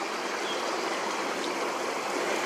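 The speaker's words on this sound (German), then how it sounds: "So wie hier zum Beispiel dieser kleine Wasserlauf schon." A small stream of water flowing beside a cycling route near old farmsteads in the Sauerland, a steady, even rushing and trickling wash heard alone and fairly faint throughout.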